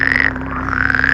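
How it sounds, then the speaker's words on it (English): Toads croak in a swamp: a loud, continuous rasping croak close by, with several voices layered into one dense chorus. "Then came the croak."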